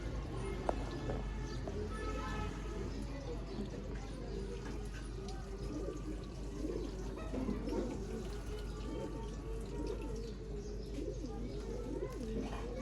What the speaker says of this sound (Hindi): उधर से कबूतर दिखा रहे हैं माशाल्लाह